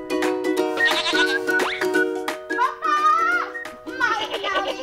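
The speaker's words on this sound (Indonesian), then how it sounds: "Sekarang emak mau ambil kambingnya heula ya," Goats bleat repeatedly at close range, wavering nasal cries one after another over about five seconds, with brief gaps between calls.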